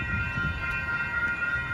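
A train halted on the tracks in Santa Ana, California, gives off a loud, steady mechanical rumble with a constant high whine.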